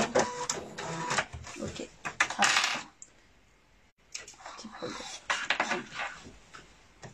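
A sewing machine stitches a backstitch on a small fabric mask pouch in short rattling bursts, pausing briefly around the middle before clattering again, fairly close and with no talking.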